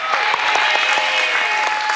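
Studio audience of the Indonesian game show Family 100 applauds a contestant, a dense steady wash of clapping with scattered sharper claps, loud and close throughout.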